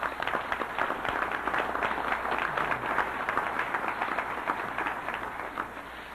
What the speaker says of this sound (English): You got that applause, Al,